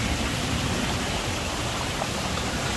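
A clear first-grade mountain valley stream on the slopes of Woraksan near Chungju flows in a steady, dense rush of water, close and continuous with no voices.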